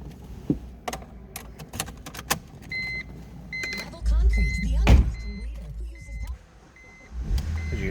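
A 2008 BMW Z4 Roadster is started after a run of small clicks and interior switch sounds, with a brief low rumble of the engine catching midway, then settling quieter.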